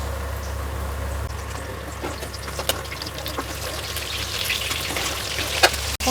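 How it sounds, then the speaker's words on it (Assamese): Boral fish frying in hot oil, a steady close sizzle with scattered sharp pops and sputters spitting throughout, alone with no talk. "মা কি ফুটিছে বৰালি মাছ ইমান ফুটে নেকি"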